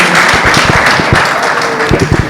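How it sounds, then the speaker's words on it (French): Crowd applause for Mamadou Diouf at a local gathering in Senegal, loud, close, dense clapping with a few sharper individual claps near the end, no one speaking over it. "Applaudissez Diouf."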